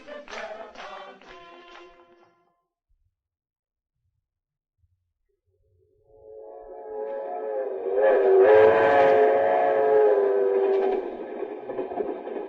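A train whistle sounds: a few short toots at first, then silence, then a long, loud, wailing blast over the rumble of the running train.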